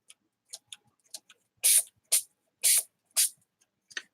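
A few faint clicks, then four sharp hissing bursts from a trigger spray bottle in a steady rhythm, close up, with one last light spritz.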